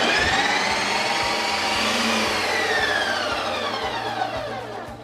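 A Ninja Creami machine spins a pint of Oreo protein ice cream on the Lite Ice Cream setting, giving a loud, steady, close high-pitched whine with a slowly shifting pitch that eases off at the end.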